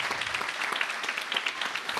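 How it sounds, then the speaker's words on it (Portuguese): A church congregation at a Portuguese-language worship service claps together, a dense, even burst of hand claps for about two seconds, fairly close and without talk. "Vamos aplaudir o nome de Jesus."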